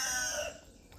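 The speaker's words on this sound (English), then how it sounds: "And that rooster is calling me" A backyard rooster crows once, a strained, fairly distant call that fades after about half a second into quiet outdoor ambience.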